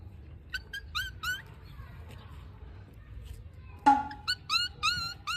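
A person imitates a puppy whimpering with high, squeaky whines in two short bursts, one near the start and a louder, denser one later, over a low background hum.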